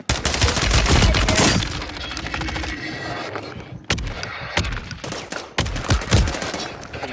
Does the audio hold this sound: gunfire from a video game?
yes